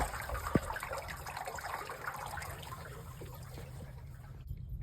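Steady running water from a hose splashing and trickling into a trough, a continuous wash of sound with a brief knock near the start.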